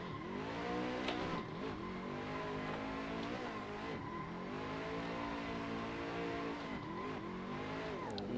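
Car drifting at BDC Rockingham in a racing simulator game, with a loud, steady engine drone and revving throughout, pitch rising and dipping as the car slides, plus tire squeal over several seconds.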